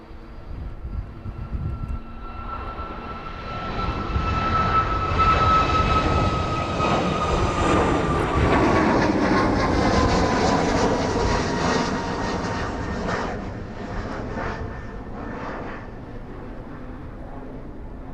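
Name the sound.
passenger jet taking off from East Midlands Airport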